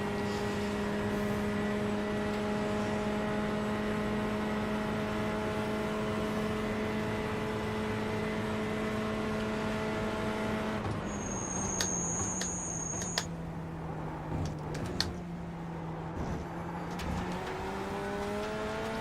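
A GTE race car engine drones loudly and steadily at high revs down the Mulsanne at Le Mans in iRacing, then the pitch drops and wavers with a brief high whine as it slows, with no talk over it.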